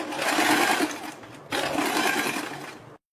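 A sewing machine stitches a neck strip alongside buckram in two bursts, the second starting after a brief slowdown, running close and steady with no talk.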